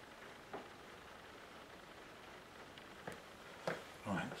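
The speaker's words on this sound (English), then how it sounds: "Can you hear the rain?" Steady, faint hiss of showery rain falling in the Surrey Hills, heard near a tree canopy, with a few brief soft knocks and rustles rising over it toward the end.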